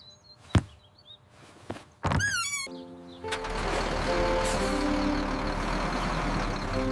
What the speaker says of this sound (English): The bus is coming.